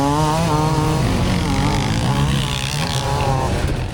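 Dirt bike engines rev hard on a sand hill climb at an enduro event, a loud continuous buzzing roar with rising and falling pitch as riders climb, close to the microphone and without any talk.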